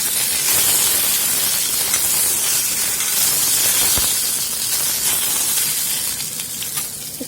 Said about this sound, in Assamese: এতিয়া এয়া কাটি লোৱা কচুখিনি দি দিম। কচুখিনি অলপ লৰাই দিছোঁ।